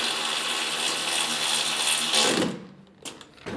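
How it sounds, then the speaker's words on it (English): Electric ratchet nipping up the front wing bolts on a Hyper Racer X1, a loud close whirring burst lasting a couple of seconds before cutting off, followed by a few short clicks. "Ratchet, one of these electric ratchets is awesome for the job"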